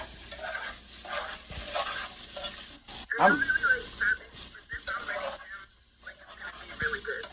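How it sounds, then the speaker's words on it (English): Vegetable soup with broccoli being stirred in a pot, soft scraping and sloshing with faint sizzle, a few utensil knocks, under intermittent talk. "I want to stir that around a little bit more"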